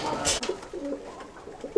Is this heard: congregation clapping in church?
no